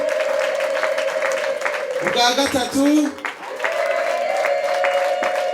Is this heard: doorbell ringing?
no